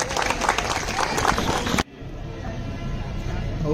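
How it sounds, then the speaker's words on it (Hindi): A crowd at a prize distribution ceremony gives dense, loud applause that cuts off abruptly partway through, leaving quiet room murmur. "तालियां बजा दिए।"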